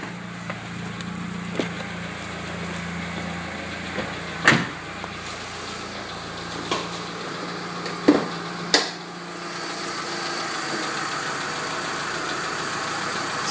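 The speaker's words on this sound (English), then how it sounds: "It's running perfectly." A 2.4-liter four-cylinder Mitsubishi Eclipse engine idles steadily after a cold start following two weeks unused, a close, even hum broken by a few sharp clicks and knocks.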